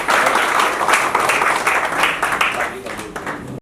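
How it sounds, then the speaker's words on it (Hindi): Audience at a Christian wedding gathering claps steadily and densely for a few seconds, a continuous close burst of applause that stops abruptly at the end. "हाँ जी, ताली बजाओ"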